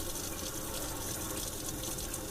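Water runs steadily from a bus sink faucet that was leaking and has just been tightened, a continuous close hiss and splash with no voices over it.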